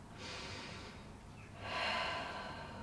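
Two deep breaths taken during a beginner Pilates stretch at home, each a long, breathy rush of air, the second louder and closer, with no talking.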